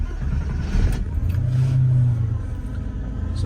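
Cold start of a 55k-mile 1989 Porsche 911 Carrera Coupe: a loud, close engine rumble holds steady, swells into a brief rev midway, then settles back to a rough idle.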